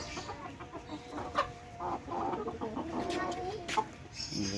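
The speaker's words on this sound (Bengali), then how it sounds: "সিল্ক জাতের মুরগি" Silkie chickens in an animal park enclosure cluck in short, repeated bursts at close range, with faint background chatter beneath.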